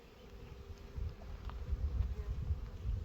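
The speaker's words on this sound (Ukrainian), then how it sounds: "Погодка хороша, бджоли літають не злі." Honey bees fly around hives on a fine day, a steady low buzzing swarm that grows louder and closer over a few seconds with no talking.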